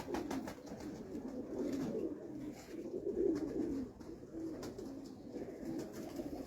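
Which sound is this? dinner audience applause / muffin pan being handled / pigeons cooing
pigeons cooing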